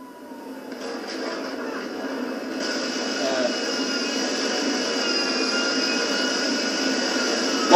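Steady jet engine roar of an airplane in the video game GTA 5, a broad continuous whine and rush that builds slightly and holds loud throughout, with no talk over it.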